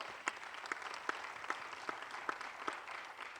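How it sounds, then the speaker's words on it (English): An audience at a public debate on water services gives a round of applause, steady clapping spread across the room with a few sharper claps standing out, heard at a distance and fairly quiet. "So a warm round of applause, please, for David Boyce, Utilities Office at Public"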